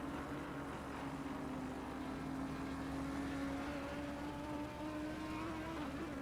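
Porsche Cup race car engine in the Assetto Corsa Competizione racing game, a steady sustained drone with a rising and falling pitch, heard continuously down a straight at Monza.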